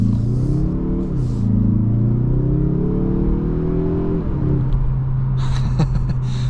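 A 2026 Mazda 3 Turbo Premium Plus sedan pulling away, its engine droning steadily and rising in pitch as it accelerates, heard from inside the cabin, then settling back near the end.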